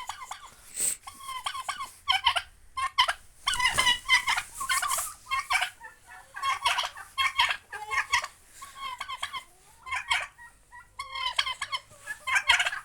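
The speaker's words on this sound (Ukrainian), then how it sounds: "Вон наш індик." A domestic turkey gobbles in a farmyard, loud rattling bursts repeating close by every second or two with short pauses between.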